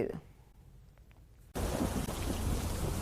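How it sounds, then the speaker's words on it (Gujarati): Heavy monsoon rain starts abruptly halfway through in Vadgam, Banaskantha, Gujarat, a loud, steady roar of downpour replacing the quieter, near-silent opening. "વડગામમાં અત્યારે ધોધમાર વરસાદની એન્ટ્રી થઈ છે।"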